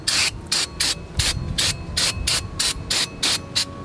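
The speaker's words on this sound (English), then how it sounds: "Clean it off with some brake cleaner." Brake cleaner is sprayed in quick repeated hissing bursts, about a dozen short blasts in a steady rhythm, onto both sides of a new front brake rotor for a 1998-2002 Subaru Forester, close and loud with no talking.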